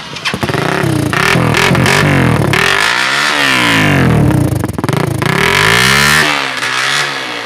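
A Suzuki GS 150 cafe-racer style 150 cc motorcycle turns over on its electric self-starter, catches, and is revved in several loud rising and falling sweeps before settling, close up and with no talking.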